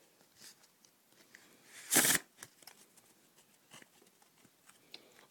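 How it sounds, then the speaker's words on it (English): Bicycle playing cards from a Black Scorpion or Black Spider deck are riffle shuffled, a close, quiet flutter of cards peaking in one brief, loud burst before soft handling sounds. "they riffle shuffle very, very nicely"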